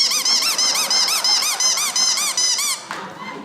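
A rubber squeaky toy squeezed rapidly over and over, loud close rhythmic squeaks in quick succession, then a final shorter squeeze trailing off.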